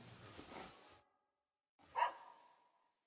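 A dog gives two short barks or yelps, the first muffled and drawn out, the second sharper and louder after a brief silence, fairly close by.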